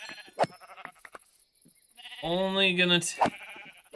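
A sheep in the WonderWorld video game gives one long wavering bleat mid-clip, loud and close, while someone talks over the surrounding moments.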